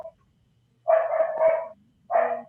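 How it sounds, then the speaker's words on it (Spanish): A small dog barks in two short bursts, close and fairly loud, a longer yapping run followed by a single sharp yip after a brief pause. "ahí me acompaña un perrito"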